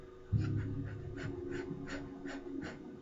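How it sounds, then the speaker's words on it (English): Rapid, rhythmic panting fire breath from a breathing exercise, each short exhale coming as a regular puff about every third of a second, close and steady throughout. "What we're going to be doing today is more like a dog panting, okay?"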